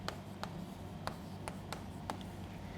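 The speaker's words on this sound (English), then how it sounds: "Let me just write the equal number of carbons over here" Pen or marker writing chemistry notes on a board or paper, heard as a series of short, fairly faint scratchy strokes spaced irregularly over a steady low background hum, with no talking.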